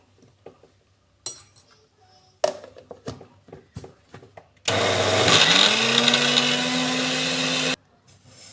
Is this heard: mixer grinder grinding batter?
yes